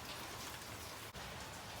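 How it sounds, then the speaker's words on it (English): Steady rain falls continuously, a dense even hiss of drops on outdoor surfaces with no voices, broken only by a brief dip partway through. "it actually is raining"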